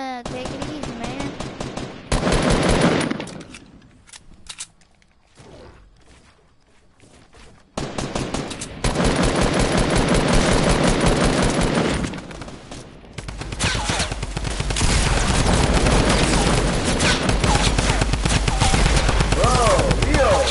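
Gunfire in a PS4 video game, loud sustained bursts of automatic fire broken by short lulls, dense and close throughout with game sounds layered in.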